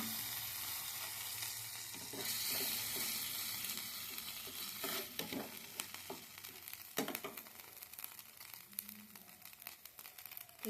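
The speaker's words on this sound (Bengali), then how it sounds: "এবার পেস্ট করা মটরশুঁটিটা দিয়ে দেবো।" Ground pea paste mixed with ginger and green chilli paste frying in a pan, a steady close sizzle with stirring scrapes and rustles throughout, no voices.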